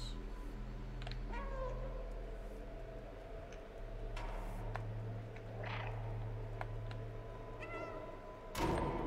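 A cat in a video game meows several times, short clear calls standing out over a steady low game ambience with faint ticking and a thump near the end.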